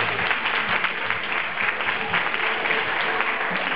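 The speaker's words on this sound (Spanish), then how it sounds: "Un aplauso para Spring" A crowd at a Mother's Day show applauds for a participant named Spring, dense, continuous clapping with some voices mixed in.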